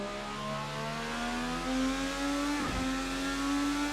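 IndyCar race car engine in a video game at Riverside International Raceway, a high tonal whine climbing steadily in pitch as it accelerates, briefly dipping mid-run before pulling up again, close and continuous.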